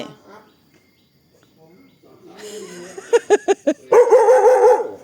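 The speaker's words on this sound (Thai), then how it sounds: "ใครทำยังจะเห่าอีก" A dog barks in a quick run of about five sharp, loud barks, followed by a longer whining yelp, with a person talking faintly before the barking.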